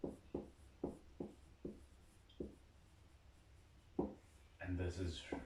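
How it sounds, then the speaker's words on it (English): Marker or pen strokes on a board while writing out the word parallelogram during a geometry lesson on polygon area, a series of short separate scrapes and taps followed by a louder burst of rustling at the end. "So let me write parallelogram here."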